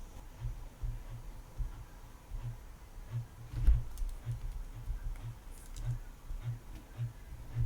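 Soft clicks from a computer mouse and keyboard tap out in an irregular rhythm, close and quiet over a faint steady hum.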